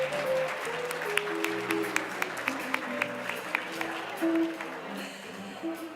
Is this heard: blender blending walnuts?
no